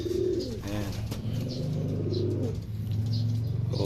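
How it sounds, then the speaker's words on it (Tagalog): Homing pigeons returning from a training flight in Aliaga, Nueva Ecija, coo and flutter close by, with repeated soft coos and bursts of wing flapping throughout. "Ayan yung mga ibon natin. Ayan sila."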